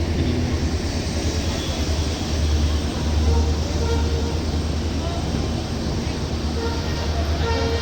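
The Rajdhani Express on the Sairang to Delhi run arrives at Hailakandi on its first day of service. A loud, continuous broadband rumble of the passing train holds steady throughout, heard close by.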